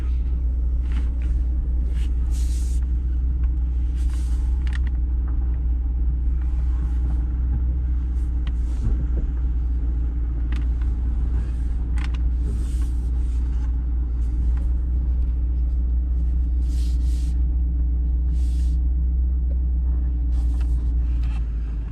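A C8 Corvette creeps along at about two miles an hour on a dealership lot, giving a steady low engine rumble that stays constant and close, with no talk over it.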